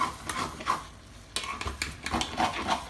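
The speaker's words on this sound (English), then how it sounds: "I'm going to go ahead and give it one more scrape before I cover it" A spoon scraping the bottom of a pot of yellow rice makes a few soft, irregular scrapes and light knocks, close and fairly quiet, with no voices.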